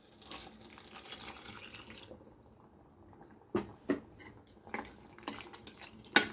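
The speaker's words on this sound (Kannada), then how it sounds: "ಇನ್ನೊಂದು ಸ್ವಲ್ಪ ನೀರು ಹಾಕೋಣ." Water poured into a pot of jackfruit sambar in a home kitchen: a soft, steady rushing pour at the start, then a pause before several sharp metal clinks of a vessel and spoon against the pot, close by.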